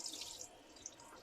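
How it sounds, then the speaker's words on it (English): Running tap water pours steadily over slimy fresh cocoa beans from Ghana being washed by hand at a sink, a soft close hiss with a few small splashes and drips. "I'm just going to wash off the slimy stuff."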